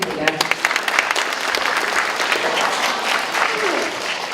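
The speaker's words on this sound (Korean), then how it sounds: "여러분 뜨거운 박수 부탁드립니다" An audience at a lecture on gut health bursts into warm applause as a professor is welcomed to the stage, a few sharp claps opening into steady, dense clapping.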